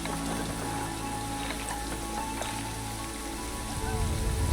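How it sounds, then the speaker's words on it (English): Heavy rain falls in Planet Zoo as a constant patter of drops over layered ambient game sounds, with a faint voice briefly underneath. "It's raining a lot right now."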